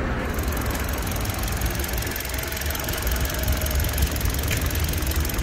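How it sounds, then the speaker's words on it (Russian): A 2013 Kia Rio 1.4 engine idles steadily at close range, a continuous even rumble with a faint ticking texture and no talking. "Работает мотор, кстати, идеально."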